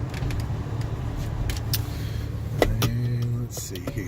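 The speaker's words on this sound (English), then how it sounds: "your power rear window" A rear power window on a lifted 2000 Toyota 4Runner Limited hums briefly as its motor runs. The sound is quiet and close inside the cabin, mixed with clicks and a person talking.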